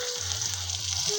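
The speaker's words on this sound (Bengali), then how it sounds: "মা মাছ ভাজা স্টার্ট করে দিলে" Silver carp pieces frying in hot oil produce a continuous close sizzle and crackle, steady and moderately loud, with no voices over it.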